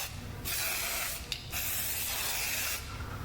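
Scanning spray hissing onto a metal flange in three short close bursts, with brief pauses between them, no voices.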